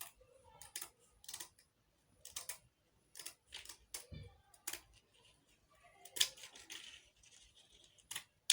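Scissors cut through millinery material in short, crisp snips, with several separate bursts of cutting spread across the clip and quiet pauses between them, close and fairly faint.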